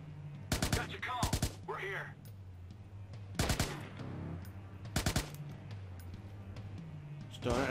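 Gunfire in the Watch Dogs video game: several sharp bursts of rapid shots, near and loud, separated by short gaps of game ambience.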